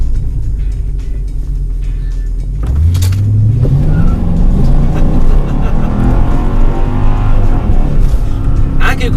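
A 475 hp Mercedes AMG engine rises in pitch as it accelerates hard, loud and close, with a brief chirp of tyres spinning in wheelspin beneath a steady mechanical roar.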